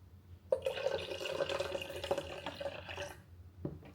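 Coconut water pours in a continuous trickling stream for about two and a half seconds, close and fairly quiet, beginning with a splash and ending with a brief drip.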